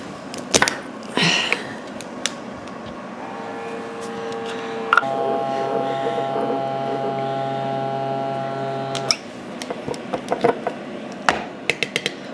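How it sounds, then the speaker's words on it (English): Small handheld vacuum sealer running for several seconds with a steady, close electric whine and hum, surrounded by scattered clicks and handling knocks of packaging before and after. "So I'm going to just use my little handheld vacuum sealer for this."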